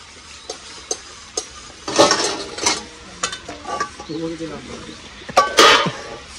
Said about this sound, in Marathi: जरा भांडी चांगली घासा रे मित्रांनो.